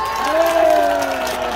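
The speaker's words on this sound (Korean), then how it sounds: "박수." A crowd at a village festival for county residents' day claps and cheers loudly and continuously, with a voice over a loudspeaker layered on top throughout.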